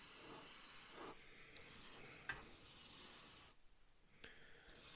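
A Gaahleri Kaleido paint system airbrush sprays in short bursts of soft hiss, starting and stopping several times with quiet gaps between, faint and close.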